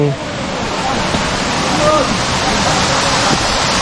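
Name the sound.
Miguma waterfall rushing water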